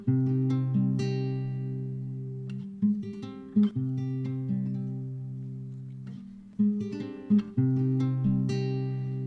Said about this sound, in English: So the first thing I started with was this guitar that I recorded with my nylon guitar